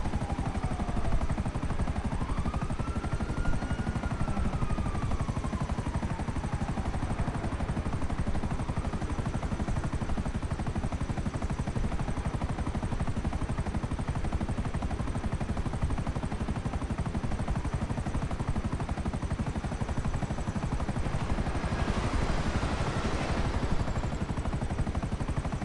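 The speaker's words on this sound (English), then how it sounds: "Just coming through with my merry old chopper." A helicopter in a video game gives a steady, loud rotor and engine roar that runs unbroken for the whole stretch, with a brief rising whoosh near the end and no talking over it.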